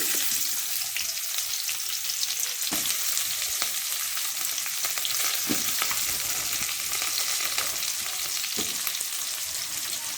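Onion frying in a pan for veg kurma, a steady loud hiss of sizzling oil with occasional faint stirring clicks throughout.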